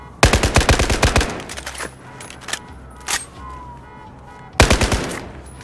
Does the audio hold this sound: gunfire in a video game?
yes